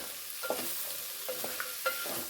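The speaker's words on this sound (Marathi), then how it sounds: "भाजी चांगली ना मिक्स करून परतून घ्यायची" Colourful mixed vegetables, including peas and carrots with salt and a spice tempering but no onion or garlic, are stirred and tossed in a hot pan over a high flame. Soft scraping stirs come in irregular strokes over a constant gentle sizzle, with no talking.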